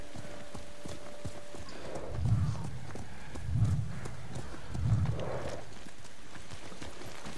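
Horse hooves clip-clop in the video game Ghost of Tsushima: three short clusters of hoofbeats, evenly spaced about a second and a half apart, over a steady low ambient bed.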